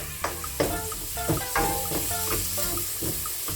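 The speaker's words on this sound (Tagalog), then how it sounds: "Ang ilang mga spices ibutang gisahon nila apil sa oil ba." Peppercorns and spices sautéing in hot oil for pasta ala pobre, a steady close sizzle with repeated scraping stirs of a utensil against the pan, no voices.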